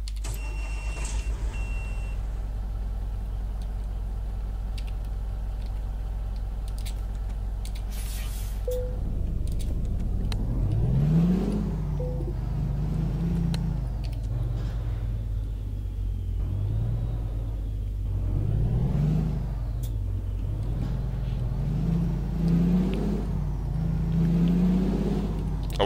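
A Scot A2HD truck engine in Euro Truck Simulator 2 rumbles low and steady, then rises and falls as it revs and accelerates, with occasional clicks and mechanical whirs.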